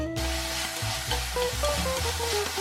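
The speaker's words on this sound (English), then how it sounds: "Put the things we prepared just now into the pan. Stir fry until the meat is cooked." Meat stir-frying in cooking oil in a pan gives a steady hiss and sizzle, with soft stirring scrapes and music playing underneath.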